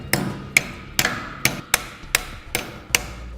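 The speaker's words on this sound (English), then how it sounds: "I'm just going to take a hammer and start beating this tab right here until it sits more flat" Steel hammer beating a metal tab flat while a Curt trailer hitch receiver is fitted to a 2016 Toyota Camry: eight sharp, close metallic strikes at a steady, slightly uneven rhythm, each ringing briefly, with no voices.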